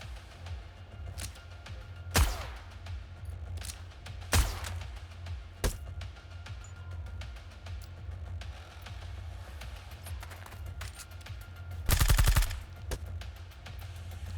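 Bursts of gunfire from a new gun in the video game Reverse Collapse crack over a steady low rumble, a few single shots followed by a rapid machine-gun burst near the end.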